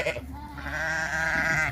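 Sheep on a farm bleat in a long, wavering call that rises near the microphone and holds steady for over a second.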